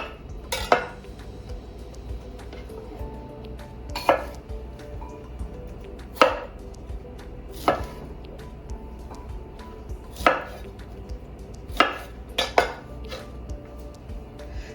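A knife cuts through a whole head of cauliflower on a board, each stroke landing as a sharp, clear chop with crisp crunching. Seven chops come at slightly irregular intervals of one to two seconds, close up, with no talk.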